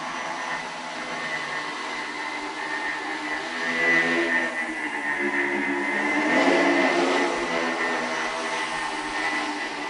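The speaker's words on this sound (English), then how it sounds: "This machine over here is actually 2 separate 2-propeller flying machines." Steady whirring drone of two joined two-propeller flying machines flying together as one quadricopter, a continuous buzzing rotor hum that swells slightly midway, heard alone at moderate distance.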